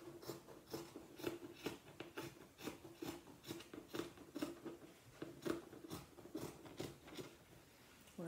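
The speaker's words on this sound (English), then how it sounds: "we're going to cut strips going up" Scissors snip steadily through a cotton T-shirt, cutting strips in a quick regular rhythm of soft crisp cuts, close and quiet with no talking.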